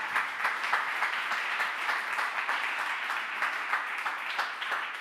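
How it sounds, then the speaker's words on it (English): A crowd applauds at a food-innovation matchmaking day for startups and SMEs, with a continuous, even round of many hands clapping that stays steady throughout. "So I ask you the last round of applause for the startups and the SMEs that today presented"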